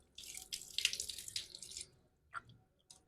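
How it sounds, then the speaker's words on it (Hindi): Water drawn into the nose during wudu ablution: close sniffing and splashing bursts with trickling tap water, followed by a couple of brief, fainter sniffs. "तो उसके बाद 3 दफ़ा नाक में पानी डालेंगे।"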